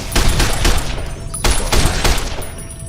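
Service rifle fire in the video game Fallout: New Vegas, loud rapid shots cracking in quick succession with a few louder reports amid dense combat noise, close and continuous.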